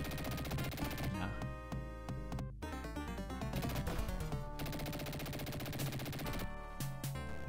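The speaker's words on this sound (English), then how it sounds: "they shoot a few times before getting to you" Enemy gunfire in the Dick Tracy game for the Sega Genesis, heard as a few bursts of shots mixed into dense, loud game music, with no talking.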